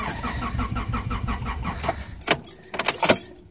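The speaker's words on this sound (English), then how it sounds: "now going to see if this car can start on that battery" A car engine cranks slowly on a weak battery and fails to catch, a labored rhythmic turnover for about two seconds, followed by scattered clicks and knocks.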